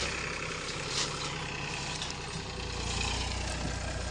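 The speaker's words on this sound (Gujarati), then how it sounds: "હાલો હવે ટ્રેક્ટર આવી ગયું છે" A tractor engine runs steadily at a near, low idle during crop loading in a field, a continuous heavy rumble with broadband noise and no talk.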